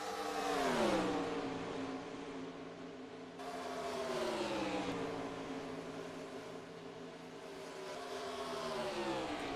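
Race car engines from the NASCAR Racing 2003 video game roar at high revs, the pitch sliding down and climbing again through gear shifts, loud and steady across the whole stretch with no talk.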